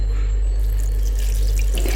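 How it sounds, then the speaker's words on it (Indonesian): Aquarium water pours in a continuous, loud, close stream to soak a Dendrobium parishii orchid, a steady splashing gush with a low hum underneath and no talk. "Ini aku mau siram pakai air akuarium."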